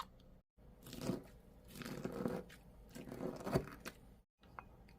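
Close, gritty crunching and squishing as soaked sea grapes are ground in a mortar, steady and continuous with brief pauses, no voices.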